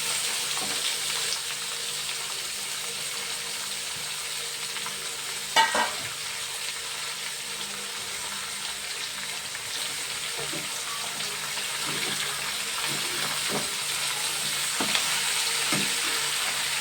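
Tempering spices fry in oil in a pan, giving a steady, close sizzle with scattered scraping and clinking of stirring, including a sharper clatter midway and a few light knocks later, with no talking.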